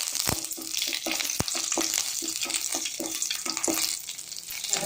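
Curry leaves fry in hot coconut oil for a Tamil ponnanganni keerai poriyal, a bright, close, continuous sizzle with crackles and sharp pops scattered throughout.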